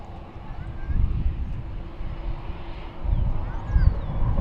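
An American Airlines airliner rumbles and roars at a distance on DFW's runway 18 left during takeoff, a low, wind-buffeted engine drone swelling toward the end, heard over faint radio chatter.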